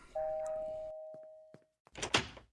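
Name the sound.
doorbell ringing, from Family Guy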